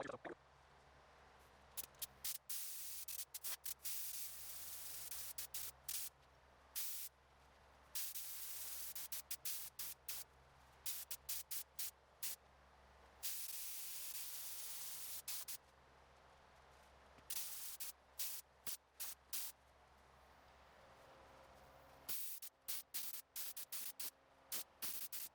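A spray gun lays down exterior paint coats on parts of a 1952 Vendo 23 Coke spin-top machine, heard as repeated bursts of soft hissing spray separated by brief quiet gaps, faint and steady.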